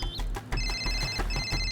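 A telephone rings in bright repeated electronic trills, with short bursts broken by brief gaps, heard fairly softly against a low steady background hum.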